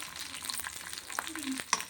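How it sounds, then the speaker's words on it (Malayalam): Raisins sizzle and crackle in hot ghee, a steady close frying hiss with occasional stirring clicks. "കിസ്മിസ് നെയ്യിൽ മൂപ്പിച്ചെടുക്കുവാണ് കേട്ടോ"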